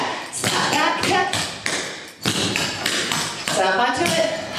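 Rapid tap dance steps for a fusion routine: toe and heel taps, slaps and scuffs clatter in quick uneven bursts, loud and close, with a voice calling out the steps over them.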